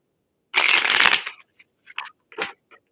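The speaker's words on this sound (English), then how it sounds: "I shuffle this shit like 3 times right in front of you." A deck of tarot cards is shuffled close up, one long riffling burst of flicking cards followed by several short taps and shuffles as the deck is squared, with no talking.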